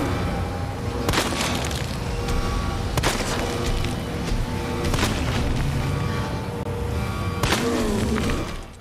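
High-powered gunfire in Resident Evil 2 Remake, played as Claire: four heavy, loud shots fired at spaced intervals, each a sharp crack with a booming tail over steady game background noise.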